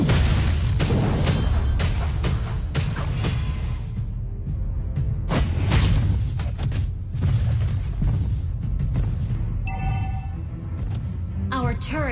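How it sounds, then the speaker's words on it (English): Booming explosions and crashes as a turret is destroyed in the mobile game Mobile Legends, with loud, continuous battle effects and rumbling impacts throughout. "Our turret has been destroyed."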